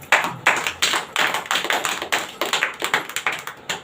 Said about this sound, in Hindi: आइए ताली मारेंगे।